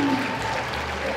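Audience applause at a cosplay contest during a magic act, a short, dense burst of clapping from the crowd with a voice briefly audible at the start.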